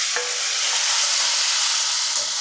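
Curry leaves sizzling in hot oil in a pot for a chicken and cashew curry, a loud, close, steady hissing fry with a brief sharper crackle near the start and no talk.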